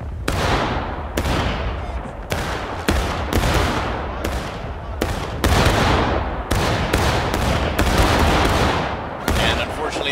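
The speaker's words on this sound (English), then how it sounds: "Fire my file from the right." Civil War musket volleys crack out by files in War of Rights, about a dozen loud, sharp reports in irregular succession, each rolling into a short echoing tail.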